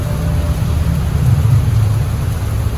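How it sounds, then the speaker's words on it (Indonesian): Rain pouring steadily at dusk before the evening call to prayer, a dense, even hiss with a low rumbling undertone, continuous and fairly loud with no voices. "Akhirnya hujan pun turun menjelang adzan maghrib."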